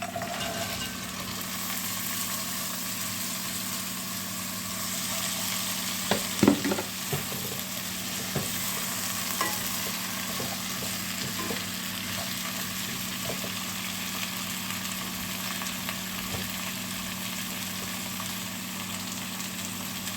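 Vegetables sautéing with homemade tomato paste in a pan, giving a steady low sizzle and hum, with a few scraping stirring knocks in the middle and no talking.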